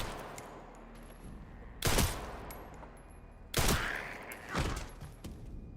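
Gunfire from the survival horror game Resident Evil Requiem: two separate loud gunshot bursts with short echoing tails, plus a later softer thud, over a low ambient game background.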